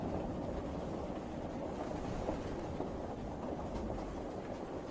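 A train runs steadily along the tracks, a continuous close rumble and rattle with faint rhythmic clatter and no voices.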